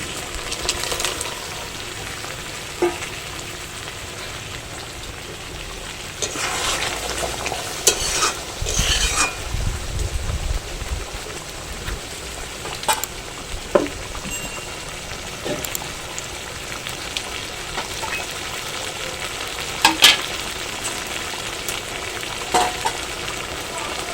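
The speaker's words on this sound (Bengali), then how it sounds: "গ্রেভি ফুটে উঠেছে, এবারে ভেজে রাখা পনিরগুলো দিয়ে দিচ্ছি" Fried paneer simmering in a boiling gravy for paneer malaikari, with a steady close sizzle and bubbling and repeated spoon-stirring scrapes, loud and continuous, no talking.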